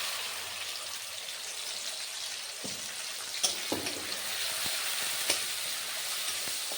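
Spice paste sizzles steadily in a pan over a gas flame, a soft, even frying hiss with a few faint clicks and stirring knocks.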